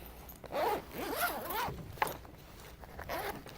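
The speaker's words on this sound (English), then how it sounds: "That zipper goes all around, that's really nice." A zipper on an Amazon Basics DSLR and laptop backpack is pulled open in several quick rasping strokes, close by, with short pauses between pulls.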